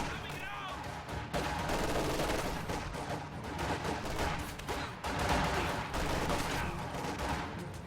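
Rifle gunfire from Grenadier units in the real-time strategy game Company of Heroes crackles in dense overlapping bursts and volleys, continuous and loud, with a voice talking over the battle throughout.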